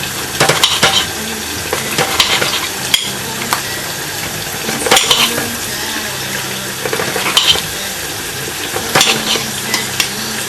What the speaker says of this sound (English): It's just frying away.